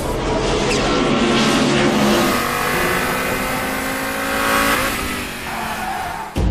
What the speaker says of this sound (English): Many people remember the sound of the five-cylinder in former times